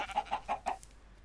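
A Minecraft chicken clucks four times in quick succession, soft and fairly close, followed by quiet.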